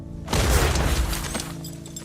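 A grenade blast in a 1998 World War II film, a deep booming explosion with crackling debris that rolls on for about two seconds and then fades, with no voices over it.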